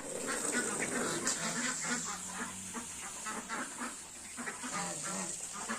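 A flock of ducks quacking repeatedly nearby on a village farm, overlapping calls with a steady hiss of running water in the background.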